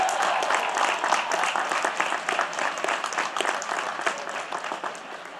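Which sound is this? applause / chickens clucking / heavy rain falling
applause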